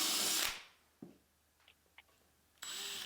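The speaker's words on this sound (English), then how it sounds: "now we'll drill a pilot hole with a little bit of a clearance hole." A short burst of a power drill whirring as it drills a pilot and clearance hole in wood for an organ's upper boards, then quiet with a few small clicks, before the drill spins up again.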